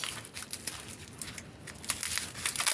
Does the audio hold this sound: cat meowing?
no